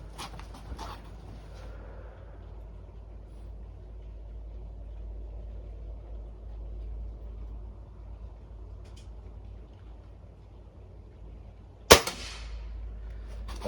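An air gun fires a single sharp shot near the end, loud and close after a long stretch of quiet low background rumble.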